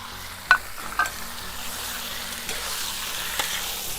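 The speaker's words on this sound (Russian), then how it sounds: "В этом масле обжариваем сейчас говядину." Beef frying in oil inside a kazan over a campfire for Georgian chanakhi, a soft steady sizzle with a few clanks of a utensil against the pot, close by and without talk.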